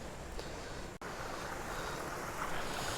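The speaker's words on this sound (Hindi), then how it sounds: "ये देखिए मेरे पीछे से ये पानी आ रहा है" A stream of water flows steadily on the Rudradhari waterfall trek near Kausani, a constant broad rushing wash with no voices over it.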